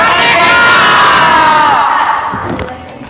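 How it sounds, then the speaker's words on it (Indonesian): In a school drama about the Battle of Surabaya, a large crowd shouts merdeka together in loud, sustained celebration. The roar swells at first, then slowly fades toward the end. "Dengan teriakan merdeka itu, rakyat Surabaya menyambut kemenangan mereka dengan penuh sukacita."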